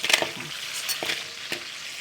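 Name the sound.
crabs frying in oil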